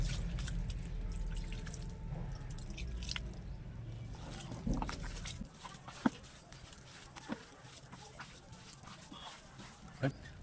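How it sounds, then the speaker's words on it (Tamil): Water sprinkled lightly by hand over mixed cow dung, a soft wet pattering and dripping under a low rumble, then a few sharp drips and splats in a quieter stretch; a voice talks at times. "லைட்டாக தண்ணி தெளிச்சு விட்டுங்க"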